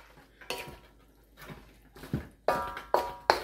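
Lo mein noodles and vegetables are tossed and stirred in a pan, with a utensil knocking and scraping against the metal in several distinct clanks that grow louder near the end, with no voices.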